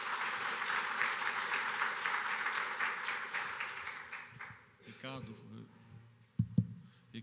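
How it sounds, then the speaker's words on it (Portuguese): Audience applause follows the introduction of a guest at a rail and metro systems efficiency panel, a steady wash of clapping that fades after about four seconds, leaving brief talk and a few thumps. "Uma salva de palmas, por gentileza."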